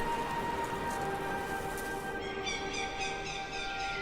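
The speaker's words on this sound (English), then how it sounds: "But below, the streams are already gurgling." Gurgling snowmelt stream on a mountainside in northeast China, a steady close rush of bubbling, splashing water filling the scene, with a faint tonal hum running underneath.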